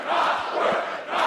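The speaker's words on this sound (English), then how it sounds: "The crowd is chanting back." Game crowd chanting in unison during a 2015 URF Yolo vs Swag match, a loud rhythmic roar of many voices filling the space for a moment.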